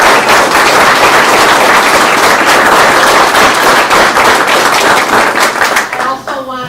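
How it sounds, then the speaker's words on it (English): Audience applause at a candidate forum: a dense, loud, sustained round of clapping from a crowd, holding steady before tapering off at the very end. "One last round of applause."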